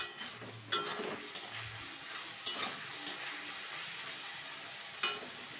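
Ivy gourd (kundi) sizzles steadily in a frying pan with potatoes, a constant hiss broken by several sharp clinks of a utensil stirring against the pan.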